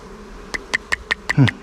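Honeybees around a wild honeycomb nest, heard up close as a string of short, evenly spaced buzzing pulses, ending in a louder, lower drone.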